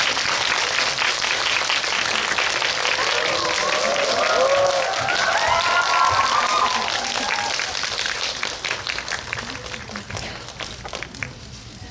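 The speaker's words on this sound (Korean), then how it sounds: "감독님과 연당의 주역들을 큰 박수로 맞이해주세요" Crowd at a film talk event applauds as the director and cast come out, sustained dense clapping from a large audience with a few cheers, gradually thinning toward the end.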